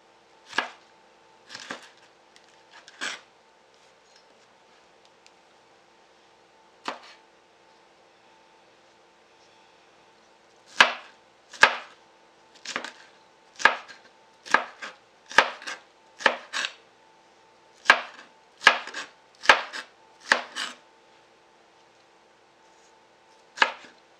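A knife dices chili pepper on a cutting board: sharp, distinct chops, sparse at first then a quicker run of about a dozen, close and clear against a quiet background.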